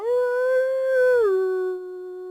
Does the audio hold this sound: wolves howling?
yes